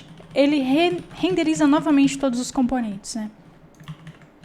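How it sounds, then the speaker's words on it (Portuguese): Typing on a computer keyboard, entering text into a web form input field, with soft key clicks running under steady, close talking. "tô digitando no input"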